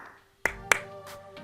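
Hands clap twice in the video game Arcade Spirits to call a small crowd to attention: two sharp, close, separate claps in quick succession, each with a short ring-out, followed by quiet background tones.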